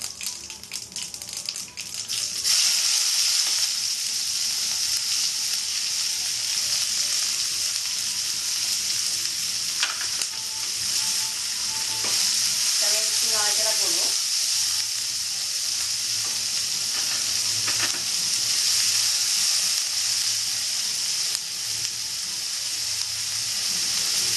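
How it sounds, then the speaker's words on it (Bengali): Sliced onions hit hot oil already crackling with whole cumin seeds for a Bengali egg curry, giving a loud, steady broadband sizzle that runs throughout with occasional stirring clatter and no talking. "জিরাটা ফুটে গেছে আমি এবার পেঁয়াজ কোচানোটা দিয়ে দেবো"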